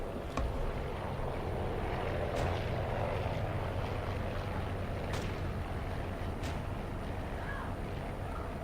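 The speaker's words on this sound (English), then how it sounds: "The sound of battle." Aircraft engines drone steadily in a World War II air battle in WWII Online, a dense continuous roar with a few sharp cracks of distant gunfire breaking through.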